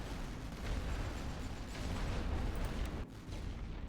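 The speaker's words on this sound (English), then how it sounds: "we'll use some artillery on it anyway" Artillery fire in The Great War: Western Front video game, a continuous rolling barrage of booming blasts and low rumble that stays loud for the whole stretch, with a brief dip near the end.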